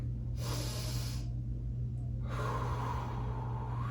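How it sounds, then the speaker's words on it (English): A person takes a deep breath into the chest, two long hissing breaths close to the microphone with a pause between them, over a low steady hum. "If you took the deep breath like this,"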